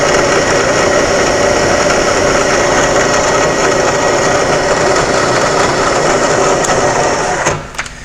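A milling machine spot drills a steel tap wrench jaw, a loud steady high whirring of the spindle and cutting that runs for about seven seconds before winding down.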